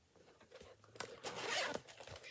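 Zipper on a plastic pouch drawn open close up, a short rasping run that swells into a louder zip and trails off, alone and quiet.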